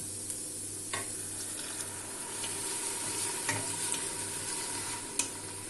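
Mussels sizzle steadily in a pan with added vinegar while a spoon stirs them, giving a constant close frying hiss broken by occasional sharp clicks of utensil on metal.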